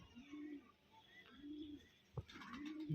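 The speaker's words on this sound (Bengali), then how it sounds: "আমি মাদি পায়রাটা দেখাচ্ছি ক্যামেরা এই হচ্ছে মাদি পায়রা" Pigeons cooing close by, three soft rolling coos in a slow regular rhythm with a brief sharp click between the last two, quiet and otherwise alone.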